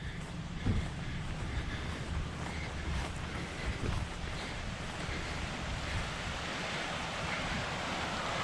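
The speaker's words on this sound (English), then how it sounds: "The river is just down here." Evans Creek, a mountain stream near Tomahawk Hut flowing down to Lake William Hovell, rushes steadily nearby with a broad, constant wash, mixed with some wind noise on the microphone.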